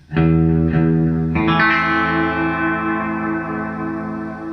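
Electric guitar notes through a delay effect ring out in a spaghetti-western style, a few plucked tones then a sustained chord, each trailing into echoing repeats that slowly fade.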